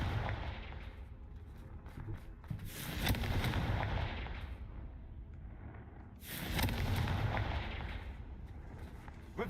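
Fiery Confringo spell blasts from the Hogwarts Legacy game hit as two heavy, booming explosions a few seconds apart. Each rumbles and crackles loudly before fading, over a continuous background of game din.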